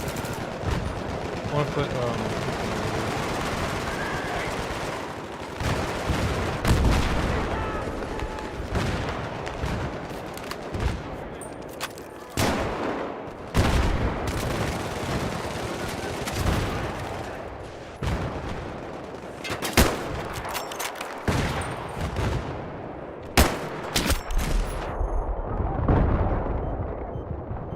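Automatic gunfire rattles in Battlefield 3 on PC. Dense, loud machine gun bursts and sharp shots repeat through the whole stretch, with explosions and brief talk from players mixed in.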